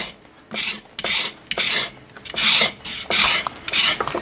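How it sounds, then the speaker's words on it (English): Rough carrot skin is rasped off with a giant carrot sharpener gadget, giving repeated scratchy shaving strokes in a steady rhythm of about two per second, close and fairly loud. "just peel the rough parts of skin off of the carrots"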